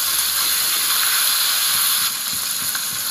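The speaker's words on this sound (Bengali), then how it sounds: "টমেটোটাকে সুন্দর করে ভাজতে হবে।" Tomatoes fry in a pan with a little salt for a Bengali drumstick curry: a steady, close, bright sizzling hiss that runs unbroken, with faint clinks of stirring underneath.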